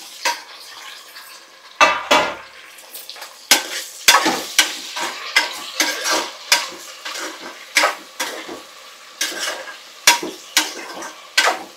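Tomatoes frying in a pan for vegetable biryani, with a steady sizzle broken by a dozen or so sharp, close scrapes and clanks of a spoon stirring against the metal, coming at an irregular rhythm.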